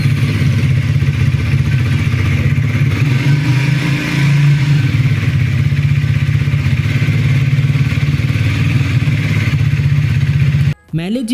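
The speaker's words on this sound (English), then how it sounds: "Now let's hear the exhaust note." A Triumph Thruxton 400 motorcycle's exhaust note, heard up close as a loud, steady engine drone with a brief rise in revs partway through, cutting off abruptly near the end.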